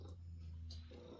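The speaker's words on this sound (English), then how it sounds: "I'm sorry if you hear my cat just purring like crazy." A pet cat purrs close by in a soft, steady low rumble that continues without a break.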